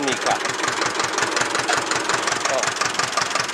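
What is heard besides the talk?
old tractor diesel engine idling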